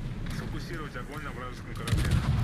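Warship guns boom in World of Warships, with a Russian Tashkent destroyer in a ranked match, giving heavy low rumbling blasts and a stronger salvo near the end.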